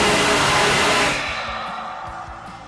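A powerful air blast roars during an aircraft ejection wind blast test, loud and broadband at first, then tapering off over a couple of seconds.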